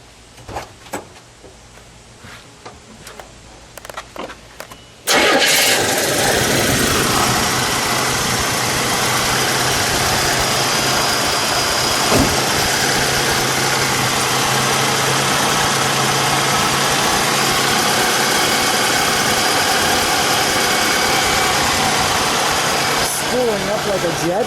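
A 1979 Buick LeSabre Sport Coupe with a 3.8 litre turbo V6 is cranked at about five seconds. It catches into a loud, steady, rumbling idle with a whistling turbo note that runs to the end, and someone talks faintly over it.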